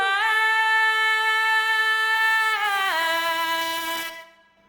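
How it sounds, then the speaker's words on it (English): Vocal chops run through a bit reduction effect give a sustained, buzzy tone that drops in pitch partway, turns grittier, then cuts off abruptly, loud and alone. "if I just listen to the bit reduction, it sounds like this"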